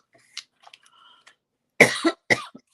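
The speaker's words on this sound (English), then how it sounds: "I'm probably going to have another coughing spell." A person's close, loud coughing fit in a quiet indoor room: two harsh bursts after faint rustling.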